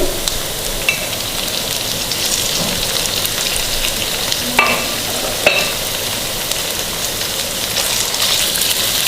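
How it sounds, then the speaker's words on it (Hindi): Finely chopped chicken sizzles as it fries with sautéed onions for chicken kachori, a steady close hiss of frying with a couple of soft clinks from stirring partway through. "अब हम डालेंगे एक बाउल बारीक कटा हुआ चिकन।"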